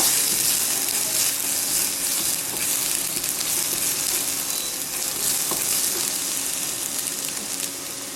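A chili-paste mixture for a veg quesadilla filling sizzles loudly and continuously as it is stirred in a hot pan, with steady frying hiss and faint scraping throughout.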